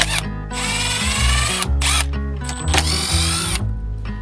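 Power driver with a T25 bit whirring to remove screws from a Stihl FS110 string trimmer, a loud close-up motor whine that starts, stops and ramps in short bursts.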